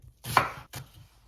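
A knife cuts an onion in half on a board, giving two close, distinct chopping thunks about half a second apart, the first louder, with no talk.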